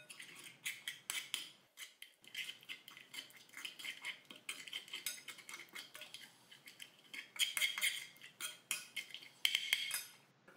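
Spices, a spoonful of mustard and water being mixed together in a bowl for a tajine of poussins with prunes and apricots: quick continuous clinking and scraping of a spoon against the dish, close and quiet, no voices.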